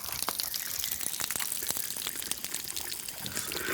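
Drinkable well water pouring and splashing, a continuous trickling stream with small spattering drops, close and fairly clear, swelling slightly at the end, no voices.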